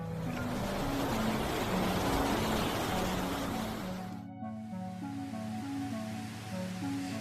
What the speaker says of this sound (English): Heavy rains transformed peaceful streets in Vosges, Grand-Est, France, into rushing rivers, flooding homes and causing chaos.